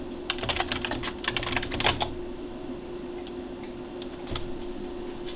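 Text commands being typed on a computer keyboard, a close run of quick irregular key clicks in bursts, then sparser taps with a pause before a final few strokes.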